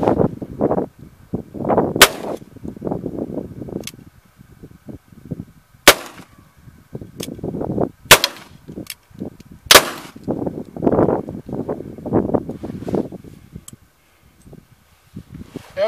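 Several sharp, loud shots from a Pietta 1851 Navy black-powder revolver fired outdoors in cold weather, spaced irregularly a few seconds apart with clothing rustle and handling noise in between.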